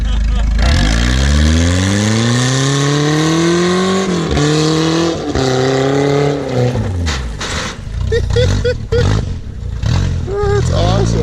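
A Volvo skateboard nugget engine held in first gear winds out by a river, loud and close, its pitch climbing in long repeated revs before choppier bursts at the end.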